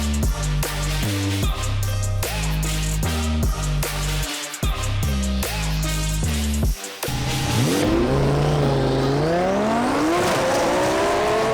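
A 1500 hp twin-turbo Lamborghini launches down a drag track: loud, close engine revs climb in stepped bursts with brief cuts between gear changes, then a long rising turbo howl as the car accelerates away.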